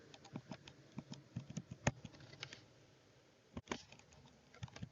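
Quiet typing on a computer keyboard during a yoga sutra class, entering Sanskrit words: soft, irregular keystroke clicks in short bursts, a brief pause, then a few more taps, with no voices.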